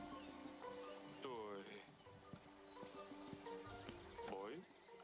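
A horse ridden around a castle in the game Yes, Your Grace clops along with soft, spaced hoof steps, and two distinct whinnies rise over ambient game sounds while a voice talks.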